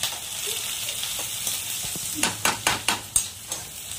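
Onions for upma sizzle in a pan under a soft frying hiss, then a burst of sharp stirring scrapes and clacks in quick succession toward the end.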